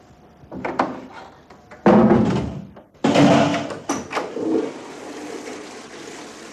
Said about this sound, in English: Shut the door, please, Jimmy.